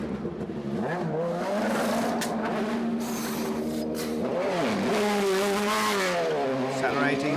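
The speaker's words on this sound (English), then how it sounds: "Accelerating away out of the pits." DTM touring race cars at Hockenheim accelerating out of the pit lane, engines revving loudly with rising and falling pitch. Several cars pass close by, with tire noise and a commentator talking over them.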